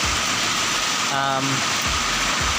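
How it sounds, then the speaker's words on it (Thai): Heavy rain pours steadily as a loud, dense hiss close by, with a brief tonal blip from a mobile game of RoV partway through. "โหเสียงฝนดังมากนะฮะ"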